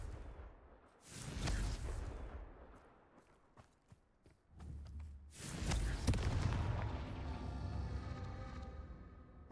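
The Confringo explosive spell cast in the video game Hogwarts Legacy: two heavy booming blasts a few seconds apart, each with a rumbling tail, and no talking.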